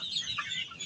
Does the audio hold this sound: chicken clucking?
yes